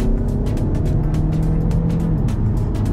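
Interior road noise from an Audi A3 being driven, a steady loud low rumble with engine drone and faint rhythmic ticks throughout, with no talking.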